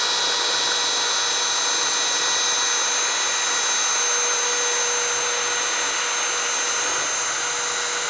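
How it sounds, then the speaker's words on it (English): A cordless drill in regular drill mode boring into soft cinder block whines steadily at a constant pitch throughout, loud and close, with no pauses or voices. "we're just going to go with a regular drill mode setting here and go down through this"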